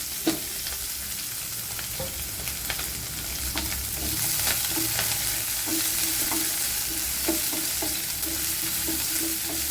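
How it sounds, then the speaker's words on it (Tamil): Ginger, curry leaves, green chilli and onion sauté in a pan with a broad, continuous sizzle and repeated scraping strokes of a spatula, close and fairly loud, with no voices. "எடுத்து வச்சிருந்த இஞ்சி, கருவேப்பிலை, பச்சை மிளகாய், வெங்காயம் எல்லாம் சேர்த்து வதக்கிக்கிடுவோம்"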